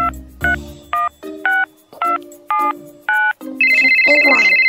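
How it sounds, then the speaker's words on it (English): A phone dials a number with a steady series of beeping tones, then switches to a loud, continuous electronic ringing tone, clear and close up. "Okay, I got my phone. It's 3 a.m. Oh, this is so spooky. Okay, let's ring this number."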